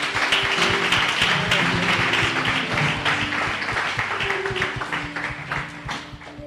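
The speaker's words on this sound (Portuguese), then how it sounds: "Uma salva de palmas ao Senhor." A church congregation claps together in steady, fairly close rounds of applause, with hand claps and light taps over a low musical drone that fades gradually toward the end.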